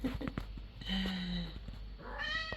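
A pet cat gives a clear, fairly close meow, drawn out and rising, followed by another shorter mewing cry, against a quiet indoor background.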